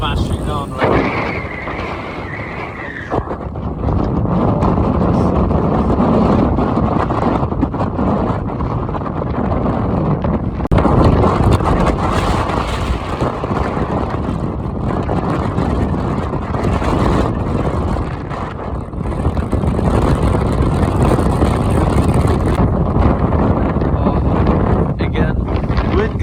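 Storm Eunice wind gusts roaring at Egmond aan Zee in the Netherlands, a loud continuous rushing buffet battering the microphone that swells and surges in strength, with a voice talking at points.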